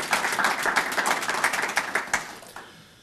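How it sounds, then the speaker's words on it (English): Audience at a hospice gathering applauds staff and volunteers, a dense, steady patter of many hands clapping at moderate distance that tapers slightly toward the end, with no voices over it. "I'd like to applaud the staff and the volunteers of this organization"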